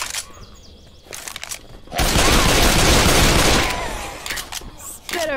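A dense barrage of gunfire in the video game Left 4 Dead 2, loud and sustained for a couple of seconds amid scattered game noises, with a few separate shots before and after.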